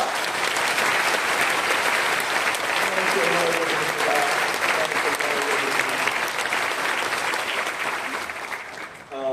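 A church congregation applauds to welcome a visiting pastor, sustained and full clapping from many people filling the hall, with tonal sounds faintly underneath and a quick fade at the end.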